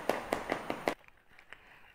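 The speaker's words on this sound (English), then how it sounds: "when you tap, you should have a hollow sound like this" Five quick knocks on a hollow-sounding loaf of freshly baked crunchy French bread, evenly spaced and close, followed by faint quieter taps.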